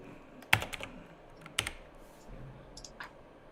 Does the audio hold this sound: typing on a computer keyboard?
yes